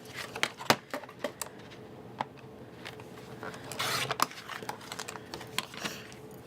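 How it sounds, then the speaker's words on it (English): A paper cutter trims a small strip off a cardstock panel for a handmade card, giving a run of sharp ticks and clicks, one brief scraping slide of the blade, then more scattered taps close by with no talking. "I'm actually going to cut another smidgen off of that bottom piece."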